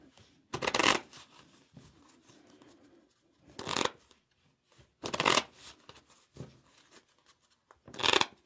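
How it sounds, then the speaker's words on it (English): Playing cards for a game of solitaire are shuffled in four or five distinct crisp riffling bursts, close and clear, separated by quiet pauses with light handling noises. "always shuffle them up real good"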